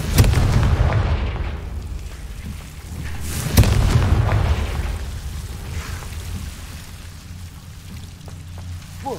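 Confringo blasting spell detonating in Hogwarts Legacy, a deep booming explosion with a second sharp blast a few seconds later, rumbling tails fading out with no talk.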